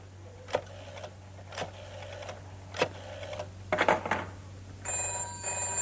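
A telephone starts ringing after several clicks from a handset being dialed and set down, a bright electronic ring arriving at the end over a steady low hum in a quiet room.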